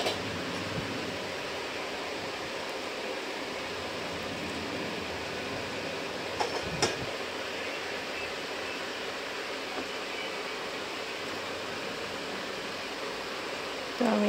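Heavy rain pours down in a steady, dense hiss that fills the whole stretch at an even moderate level, with a couple of faint knocks partway through.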